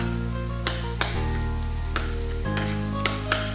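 Garlic dropped into hot cooking oil for a chicken liver and vegetable dish, a loud steady sizzle and crackle close up, with a few brief clinks and stirring knocks over the frying.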